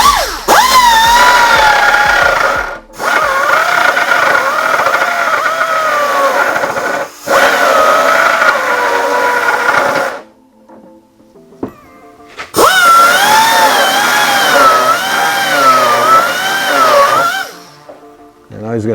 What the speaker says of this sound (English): he's all set up with the die grinder